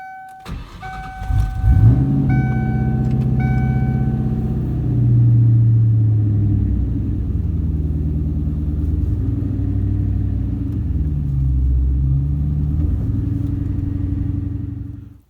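A 1997 Ford Mustang GT V8 with a swapped engine rumbles steadily while driving, a deep continuous low-pitched drone that swells and eases with throttle after a brief startup, loud and close with no talking.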